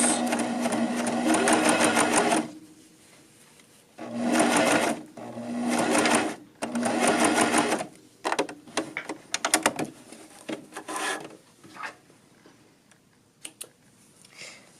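A sewing machine backstitches over the threads on a dolman sweater seam in several bursts of rapid, buzzing stitching separated by pauses, followed by lighter clicks and handling noises nearby.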